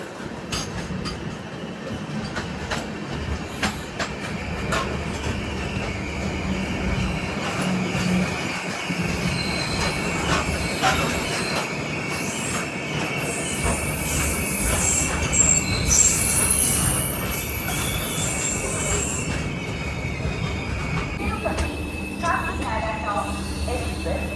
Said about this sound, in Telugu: మన ట్రైన్ అయితే అనపర్తి రైల్వే స్టేషన్కి ఎంటర్ అవుతుంది.